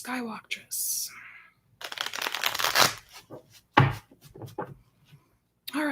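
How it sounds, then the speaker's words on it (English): Tarot cards shuffled close by in a short riffling burst, with speech before and after and a few sharp taps of the deck. "one more shuffle for Skywalktress."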